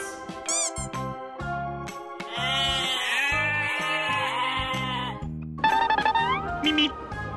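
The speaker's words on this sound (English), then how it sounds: "Goat." Toy goat bleating in a children's colors-and-animals toy box play, with wavering harmonic bleats and toy jingles over a loud, busy musical backing throughout.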